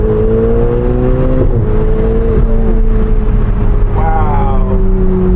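Ferrari 488 Spider turbocharged engine pulling hard in second gear from low revs, a loud steady climbing drone from inside the car that wavers near the shift point and keeps rising, with brief talk over it.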